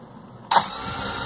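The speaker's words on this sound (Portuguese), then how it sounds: "Motor funciona." A drone motor spins up abruptly during a maintenance test, a sudden whirring onset followed by a steady high hum close to the microphone.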